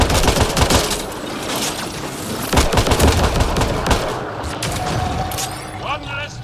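Gunfire in the video game Mass Effect: Andromeda, including an M7 pistol, with a dense run of sharp shots and bursts over about six seconds, loud and close over battle noise.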